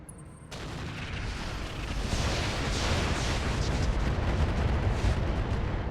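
A barrage of missiles strikes mechs in the video game RogueTech, building into a continuous, loud roar of overlapping explosions that holds steady to the end.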